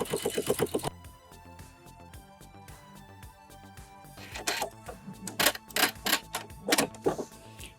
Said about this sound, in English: So now I'm just adding that little edge stitch on the fold.